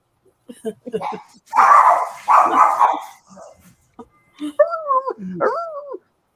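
A dog barks in short bursts and whines in the background while a person talks nearby, the barks loud and close between stretches of speech.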